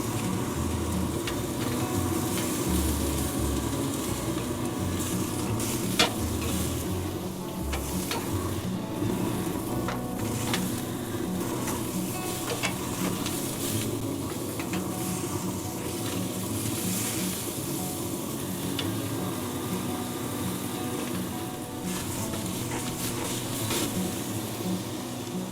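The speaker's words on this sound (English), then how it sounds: "I'm getting a nice sizzle on this side." A steak sizzles steadily as it fries in a pan, a dense continuous crackle that holds close and even the whole way through, with no talk over it.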